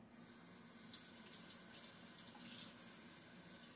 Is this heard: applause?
no